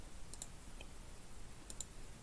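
Two faint, crisp double clicks of a computer mouse, about a second and a half apart, sit over a quiet, hissy background with no voice.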